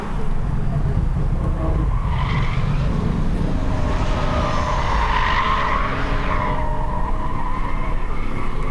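A 2024 Toyota Prius slides sideways through a corner on a race track, its tires skidding and squealing continuously over steady engine and road noise, loud and close for several seconds.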